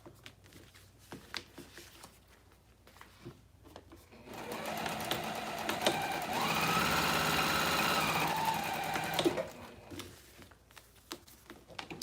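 A sewing machine runs steadily at home for about five seconds in the middle, a loud continuous whir, with quieter clicks and handling noises before and after.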